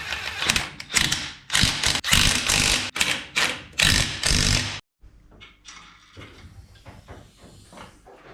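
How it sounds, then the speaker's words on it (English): Truck wheels going back on: a run of loud, close mechanical ratcheting and clanking bursts, then a quieter stretch of scattered metallic rattles and tool noises. "Alright, let's put these wheels back on."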